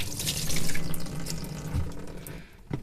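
Running tap water splashing steadily over a brush and microfiber cloth being rinsed clean of detergent at a sink, with a continuous close gush and brief drips near the end.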